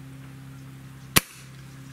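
A single sharp, loud crack from an Umarex Throttle air rifle firing a lead pellet, standing alone over a steady low hum with nothing before or after it.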